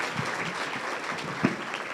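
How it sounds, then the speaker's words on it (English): Audience applause for a district communications team at a JCPS State of the District luncheon, a steady, fairly faint wash of clapping with one sharper clap standing out. "Round of applause for our communications team for putting together such a great event"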